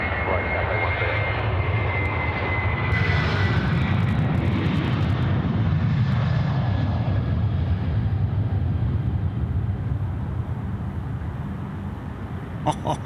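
A Cathay Pacific jet airliner taking off from runway 16 right at Sydney Airport, a loud, continuous engine roar and rumble that holds steady and slowly fades, with no talking.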